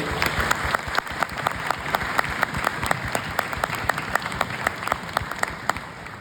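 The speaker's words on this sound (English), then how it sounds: "why don't we give a big round of applause to Hugh LeBar" A round of applause from the crowd at a Veterans Day event, sharp individual claps standing out in a steady, moderately loud patter that continues throughout.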